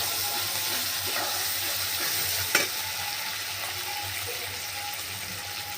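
Chopped tomato, green chilli and ginger paste sizzle steadily in a pan, a soft, even frying hiss with a brief clink of stirring partway through.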